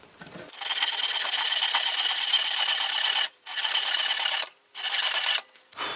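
A hand saw cuts through wood for a wooden garden bed, a steady rasping that runs unbroken for several seconds, then breaks into two shorter bursts with brief pauses between strokes, close and fairly loud.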